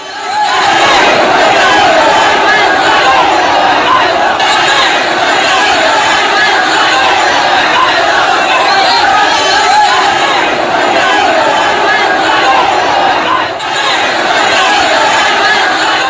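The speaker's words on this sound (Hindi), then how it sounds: "भीड़ लगातार नारेबाजी कर रही थी" An agitated crowd in Bareilly chants slogans amid a violent confrontation with police, a dense, loud, unbroken wall of massed voices and shouting that holds steady for the whole stretch.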